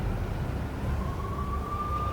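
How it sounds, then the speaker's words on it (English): Police sirens wail in the Max Payne video game, a single rising siren tone swelling out of a dense low rumble and holding steady at the end. "I could hear the sirens. Their wail was a crescendo."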